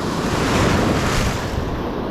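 Ocean waves crash and wash continuously on a San Diego beach, loud and close, with gusting wind buffeting the microphone over a steady surf roar.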